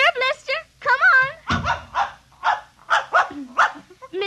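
A puppy yips, barks and whimpers in a radio drama, short bright yelps scattered through the clip, with a voice partly overlapping them as he urges the dog on; the yelps may be a voice imitating a puppy.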